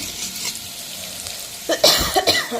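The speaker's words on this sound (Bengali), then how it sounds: "এখানে ফুলকপিগুলো ভেজে নিচ্ছি" Cauliflower pieces frying in a pan: a faint oily sizzle at first, then louder bursts of stirring and crackling near the end, with no talk.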